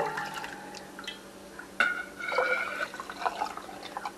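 Pork and chicken bone broth poured into canning jars in a home kitchen, a close liquid splash and trickle with glassy clinks and drips, no one speaking.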